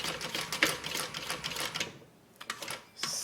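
Sewing machine stitching along a bag's long edge, a quiet buzzing run of rapid needle strokes that stops briefly, then restarts in short bursts.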